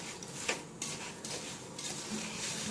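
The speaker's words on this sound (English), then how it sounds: "So you just give it a good stir like that" Strawberry jam of wilted strawberries stirred in a pot, giving a soft continuous scraping and swishing with a few light utensil clinks against the pot, close and moderately quiet.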